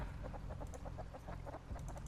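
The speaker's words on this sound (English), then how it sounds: "One less chicken in the coop." Chickens in a coop in the Rust video game cluck softly in quick, repeated short calls over a steady low background hum, with no talking.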